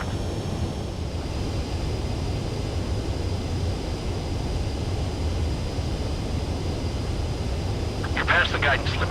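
A fighter jet in a video game touches down on a runway, its steady, dense engine and wind roar holding throughout, with a brief brighter rush near the end.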